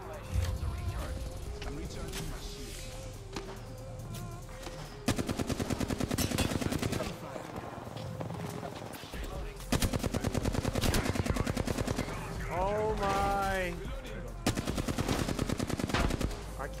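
Gunfire in the battle-royale game Apex Legends, rapid automatic bursts in several stretches under ongoing talk and game sounds, fairly close and moderately loud.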